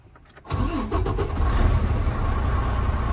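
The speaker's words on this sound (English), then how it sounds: "I'm going to start the engine." A truck engine cranks and fires after a short quiet pause, catching quickly and settling into a loud, steady rumbling idle close by during an air brake test.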